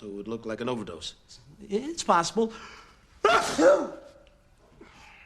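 A sudden sharp sneeze bursts out after a man's speech, followed by a brief breathy tail, with talk before it.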